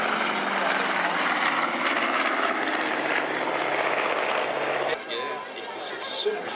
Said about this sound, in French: Voilà donc un avion de chasse